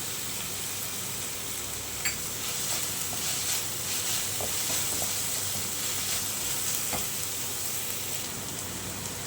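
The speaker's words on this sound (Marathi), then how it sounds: "छान परतून घेऊया कोकम घालते" Dried tiny shrimp sauté with kokum in a pan, giving a soft, steady sizzle and crackle with a few faint pops and stirring taps, with no voice over it.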